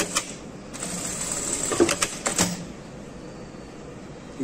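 A sewing machine stitches the pocket of a double-breasted blazer in short mechanical bursts over a quiet room, the whirring runs clustered near the middle before the machine falls silent.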